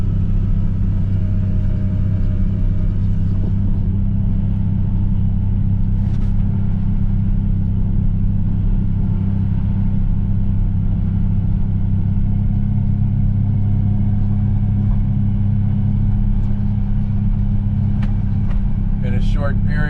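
Steady low engine rumble of a vehicle driving up a valley toward a hunting shack, continuous and close, with slight shifts in load.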